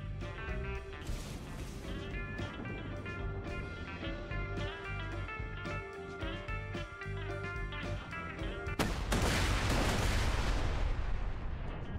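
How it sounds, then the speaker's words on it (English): A grenade or rocket launcher fires repeatedly in Borderlands 2, sharp blasts and booms stacking over game music, followed by a heavy rumbling explosion near the end. "grenade launcher, rocket launcher."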